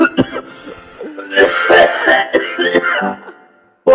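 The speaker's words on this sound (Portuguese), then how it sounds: "Pô, tô tossindo, caralho." A man coughs repeatedly at close range while playing a game, a run of harsh rough coughs and throat clearing in quick irregular bursts, loud and dominant, ending in silence.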